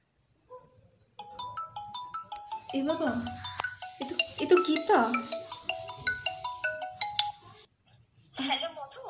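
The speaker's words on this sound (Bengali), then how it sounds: "তার ব্যাগের মধ্যে হঠাৎ মোবাইল ফোন বেজে উঠল।" A mobile phone rings inside a bag, a bright repeating melodic ringtone that starts after a short silence and plays for several seconds before someone speaks.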